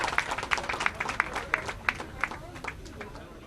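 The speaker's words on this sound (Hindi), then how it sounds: "अजय माकन साहब का जोर से तालियां बजाकर स्वागत करें।" An audience at a Congress party rally welcoming Ajay Maken gives steady, rhythmic clapping with a crowd murmuring underneath, moderately loud throughout.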